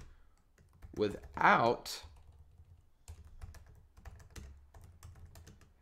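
Someone types on a computer keyboard in a quick run of light, close clicks, with a voice speaking briefly over the start.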